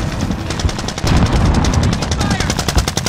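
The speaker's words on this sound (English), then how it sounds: "I'm getting shot from the left." Rapid automatic gunfire in Call of Duty: Modern Warfare, a steady stream of loud, close shots repeating without pause for about three seconds, with some speech in the mix.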